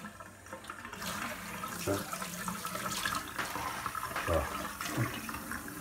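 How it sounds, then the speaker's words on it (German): Lukewarm tap water running into a container of tomato seeds and pulp during seed cleaning, a steady splashing flow throughout, with a voice speaking briefly. "Und jetzt hat man wieder ein lauwarmes Wasser rein."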